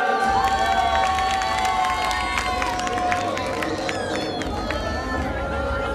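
A large crowd at a Ramlila awards ceremony cheers and claps continuously, with shouts and a busy murmur of voices filling the space.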